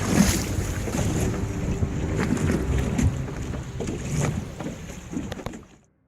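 A sailing ship out at sea, with wind rushing and waves sloshing against the hull in a steady, full wash of noise. The sound fades out in the last second.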